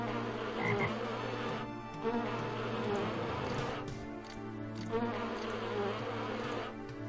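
Wasps in the video game Grimoire buzzing, a steady droning hum that swells and dips over several seconds, continuous and fairly loud without any talking.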